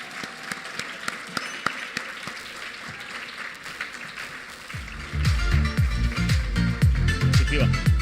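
Applause at an awards gala dinner, a steady patter of many hands clapping that swells louder midway as a muffled beat joins in underneath.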